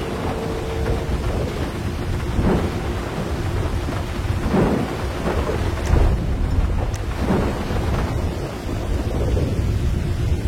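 Steady rain with rumbling thunder on Mount Chiliad in a video game, with dull thunder swells recurring every couple of seconds over a constant wash of rainfall, loud and close, with no voices.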